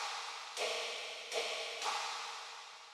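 A Hive software synthesizer patch gives a quiet, airy hiss, a noisy, breathy texture that swells in three soft pulses over a steady wash.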